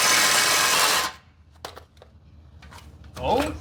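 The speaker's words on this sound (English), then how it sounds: "Let's make some relief cuts with the Sawzall." A Sawzall reciprocating saw makes relief cuts in a bushing with a loud, harsh burst of rapid cutting that lasts about a second and then stops abruptly. Faint clinks and voices follow.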